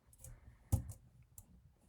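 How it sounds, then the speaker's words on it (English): A few sharp, close clicks of keys struck on a computer keyboard, spaced irregularly in a quiet room. "I'm just doing all of this by hitting keys on my keyboard."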